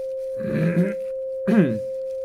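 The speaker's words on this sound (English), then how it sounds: "I can turn on a little bit of 528 Hertz. 528, the miracle frequency, love frequency." A steady 528 Hz sine wave tone hums without a break for the whole stretch, pure and even, while two short bursts of voice-like vocal sound rise over it.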